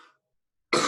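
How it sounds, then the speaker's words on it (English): A single throat clearing bursts out loud and close at the end, following a brief faint trailing sound and a short silence; it is hay fever related. "I'm going to clear my throat 1 second."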